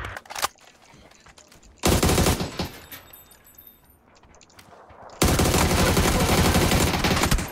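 Automatic gunfire rattles in a first-person shooter game, two loud rapid bursts, one short and one sustained, separated by a quieter stretch of faint ambient game noise.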